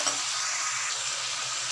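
Spices being stirred into cauliflower, potato and capsicum frying over low heat in a pan, a steady close sizzle with soft scraping throughout, no voices.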